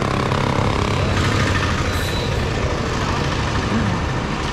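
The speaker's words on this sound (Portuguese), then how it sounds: "Olha a moto do cara aí." A motorcycle passes along a busy street in an ordinary neighborhood in India, its engine loud and close within steady traffic rumble.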